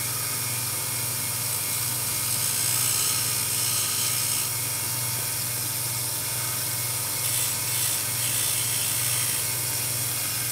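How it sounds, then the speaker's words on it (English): Steady grinding whir of a soft wheel sharpening a knife tip, with a constant motor hum and a rough, scratchy texture that continues without a break for the whole stretch at moderate loudness. "So I'm just gonna use a soft wheel on that."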